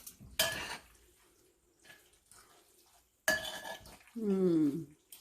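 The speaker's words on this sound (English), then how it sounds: "now we take 2 forks, fork and a spoon. And it's like this. And mix like this" Two forks and a spoon toss and mix cooked pasta in a home kitchen, giving two short bursts of metallic clatter and scraping separated by quiet, with a brief voiced sound near the end.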